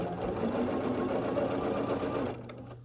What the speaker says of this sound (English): And then we're going to sew this together with a 1/4 inch seam allowance.